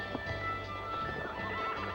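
Horses neigh and whinny in a forest during an expedition, a brief close call over a dense, steady background of ambient noise.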